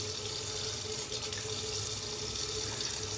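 Water running steadily from a tap during shaving soap lathering, a continuous close splashing stream with no talk.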